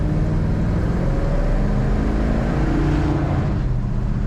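A 1978 Chevrolet Nova sedan's engine, automatic transmission, hums steadily and builds as it accelerates, with a continuous low rumble and rising tone, close and fairly loud with no talking.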